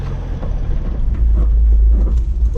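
A 4x4 car setting off across the Sahara desert with its four-wheel drive engaged, a loud, steady low engine and tyre rumble that swells slightly as it pulls away.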